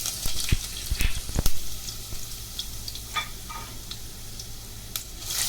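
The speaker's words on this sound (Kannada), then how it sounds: "ಸಣ್ಣದಾಗಿ ಹೆಚ್ಕೊಂಡಿರೋ ಬೆಳ್ಳುಳ್ಳಿ ಶುಂಠಿ ಪೀಸಸ್ನ ಹಾಕೋಣ" Chopped garlic and ginger hit hot oil in a pan, giving a steady close sizzle and crackle with a few sharp clinks of a spoon against the pan early on.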